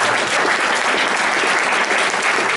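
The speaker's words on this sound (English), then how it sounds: "please join me in a round of applause" Loud, dense applause from an audience at a panel discussion, sustained and even throughout with no talk over it.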